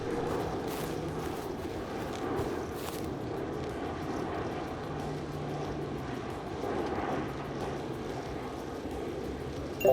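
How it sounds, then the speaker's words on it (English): An airplane passes overhead in the IT Works Electronics Repair Simulator game, a steady droning engine rumble that swells slightly and holds for several seconds with no talk over it. "we've got to get rid of that plane noise"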